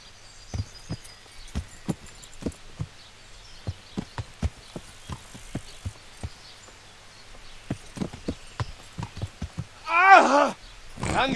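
Horse hooves clopping in the medieval video game Kingdom Come Deliverance, a sparse irregular series of sharp near hoofbeats, followed by a brief shouted voice near the end.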